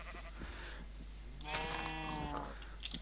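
Cows in a Minecraft MagiTech modpack give a single drawn-out moo-like bleat partway through, faint and heard alone.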